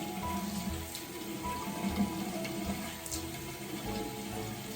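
Tap water runs steadily into a bathroom sink during a nighttime at-home facial skincare routine, a continuous moderate splash with no talking.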